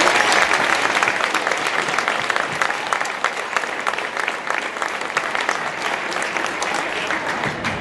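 Loud, dense audience applause fills a school spring concert hall, sustained clapping from a large crowd that continues evenly without a break.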